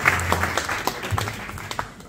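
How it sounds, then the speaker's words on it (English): Brief applause from the audience at a collaboration dialogue and matchmaking event, scattered claps over a murmuring room, moderately loud and fading after about two seconds. "And yes, round of applause again."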